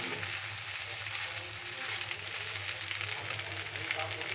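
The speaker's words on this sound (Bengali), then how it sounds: "পাস্তাটা আমি নাড়ছি, এভাবে নাড়তে হবে, ভালো করে মিশিয়ে নিতে হবে টমেটো কুচিটা" Pasta being stirred with chopped tomatoes in a hot pan gives a soft, continuous sizzle with faint scraping of the stirring, quiet and steady, with a low hum underneath.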